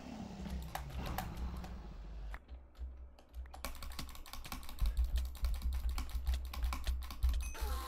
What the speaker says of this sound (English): I'm actually clicking on target